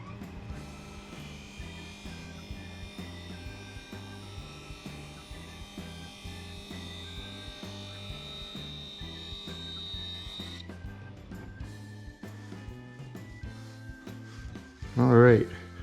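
A wood lathe spins a padauk bowl at 3,000 RPM, a steady whirring hum with a high tone that drops out partway, and a sharp loud catch of the gouge near the end.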